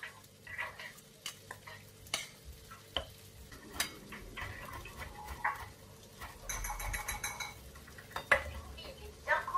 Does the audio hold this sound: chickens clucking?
no